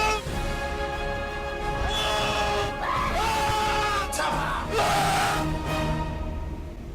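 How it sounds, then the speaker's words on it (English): A man screams and yells in a string of drawn-out, strained cries in a homemade movie trailer, rising and breaking over a steady music bed. "make half of this trailer like just him screaming"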